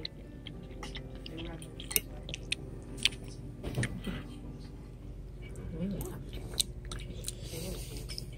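Close, soft chewing of peppers made soggy by hot sauce: wet squishes and small clicking bites at an irregular pace, with faint mouth and vocal sounds in the background.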